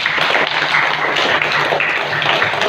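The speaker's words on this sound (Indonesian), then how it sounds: "Kita beri tepuk tangan." A classroom of students applauds a student group after its presentation on soil types. The clapping is steady and dense, lasting the whole stretch at close range with no talk over it.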